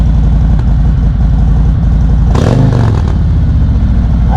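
A 2020 Harley motorcycle with Reinhardt 4.5 slip-on exhausts idles at about 1200 RPM, a loud, close, steady lumpy pulse with one brief blip of revving in the middle.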